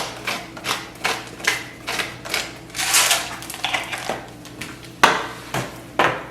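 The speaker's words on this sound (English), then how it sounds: "Grind some peppercorns on it." Peppercorns ground over raw shrimp in a home kitchen, a series of short, close, crisp crunching and clicking bursts repeated in an irregular rhythm, with no voices.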